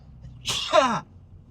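A single sneeze, close and fairly loud, with a quick sharp onset and a trailing breathy release.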